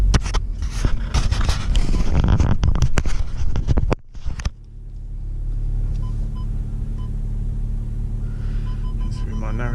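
A 2015 VW Golf R with a Stage 2 tune loud and close with dense crackling engine rumble, a brief sharp drop near the middle, then a steady low drone of cruising on local roads.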